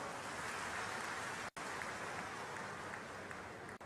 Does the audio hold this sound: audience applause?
yes